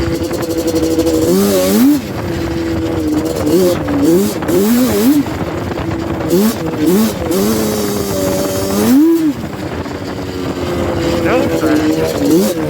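Yamaha Banshee ATV engine revving hard while riding through snow with little traction, loud and close, with repeated rising and falling throttle bursts and a rider's voice occasionally over it.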